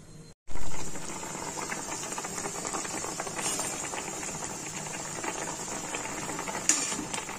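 Hilsa fish in thin gravy simmers in a covered pan on a gas stove, a steady low bubbling with faint rhythmic ticking under a constant flame hiss, after a brief clatter at the start.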